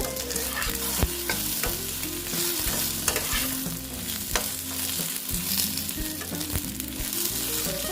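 Eggplant pieces frying in a pan: a loud, continuous sizzle of hot oil is broken by repeated scraping and clinks from stirring with a utensil, close up and with no talk.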